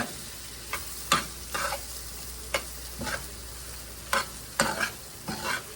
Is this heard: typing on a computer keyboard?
no